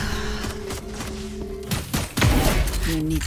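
Rapid bursts of gunfire crack out in a first-person shooter match, with several close, loud shots and thuds piling up toward the end over game background noise.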